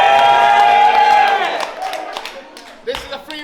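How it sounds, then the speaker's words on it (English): A rap battle crowd cheers, whoops and claps after a loud shouted voice, the noise fading into scattered hollers and chatter. "Make some noise for Kick Nelly"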